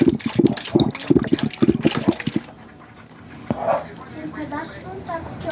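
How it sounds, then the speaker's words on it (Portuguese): Homemade yeast starter pours and gurgles into a stainless steel basin, splashing in short bursts before a quieter stretch with soft bubbling as it ferments. "Aqui é uma bacia de inox, não tem problema nenhum, tô despejando o fermento."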